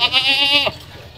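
A red-spotted Beetal goat on a farm in Punjab, Pakistan, gives a single loud, close bleat lasting over half a second, then falls quiet with only faint background sound.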